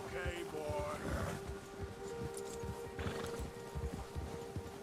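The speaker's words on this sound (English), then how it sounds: "Who's spook your horse when a predator is nearby? Your horse gets agitated." An agitated horse in the video game Red Dead Redemption 2 snorts and whinnies near a predator, with hooves clopping steadily underneath, while voices speak over it.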